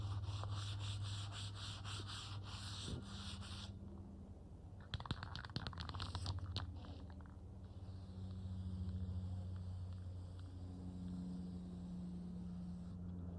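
Primer unevenness is sanded off the edge of a decorative metal sign post, giving a faint, steady close-up rubbing rasp with a brief clattery break partway through before the scraping resumes.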